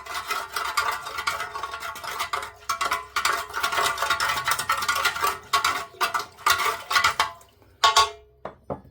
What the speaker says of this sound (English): You wait till I stir this up and you watch all them metal flakes in there